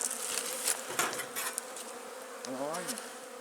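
A steady buzz of honeybees around a wax-moth-infested hive fills the air close up, with a few louder passes as individual bees fly near.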